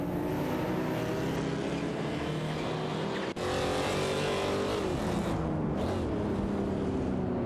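Race cars, among them a BMW M5 E34, roar past in an AI racing video game, a steady loud engine drone with rising and falling pitch sweeps as cars close in and pull away.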